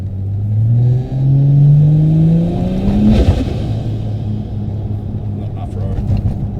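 A 1000HP turbo Barra engine in a car accelerating hard, its loud rising tone climbing through the gears with a shift break and continued rumbling pull, voices faintly present in the cabin.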